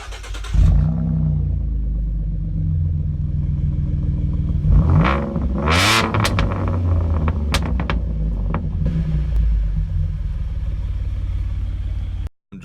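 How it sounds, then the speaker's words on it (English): A car fitted with LCP exhaust pipes in the center revs hard, giving loud, close, rumbling engine blasts that rise and fall in several surges, with sharp crackling pops in between. "this is how my car used to sound when I had the LCPs right in the center"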